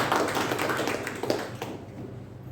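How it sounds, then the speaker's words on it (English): Applause from a Toastmasters meeting audience, a brisk patter of many hands clapping at moderate distance that fades out over a couple of seconds. "A huge round of applause once again for all the team members"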